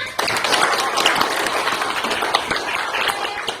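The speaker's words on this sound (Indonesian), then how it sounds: "Tepuk tangan dulu untuk semuanya" Children in a classroom lesson clap their hands together in a dense, steady burst of claps lasting the whole moment, fairly loud and close, with faint voices mixed in.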